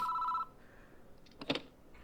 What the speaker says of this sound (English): the phone ringing doesn't stop